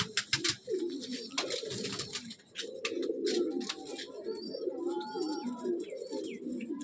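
Madrasi pigeons in a breeding loft coo in low, throaty, overlapping rolls that run steadily throughout, with brief sharper clicks and a few faint higher chirps mixed in.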